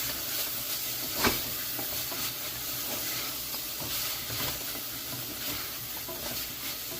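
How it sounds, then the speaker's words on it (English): A creamy chicken à la king sauce with onions, mushrooms and a bay leaf simmers and hisses in a pot while a spoon stirs it, a constant soft sizzle with one brief scrape near the start. "I'm going to add in a bay leaf, continue to stir around."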